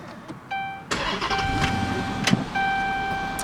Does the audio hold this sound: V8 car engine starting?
yes